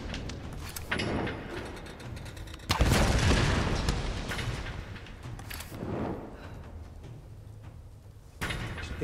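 Gunshots in the video game Tomb Raider Remastered, a couple of sharp booming reports with echoing tails among mechanical rumbles and sliding noises.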